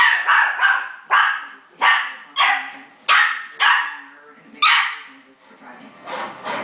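A dog barks over and over, about eight sharp, loud barks at a steady pace, close by.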